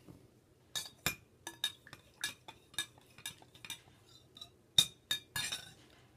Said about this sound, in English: Now you just want to stir that up a little.